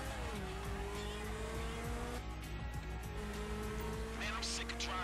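Car engine drone and tire noise from driving in Grand Theft Auto 5, a steady loud hum with a brief skid, under continuous game music and voices.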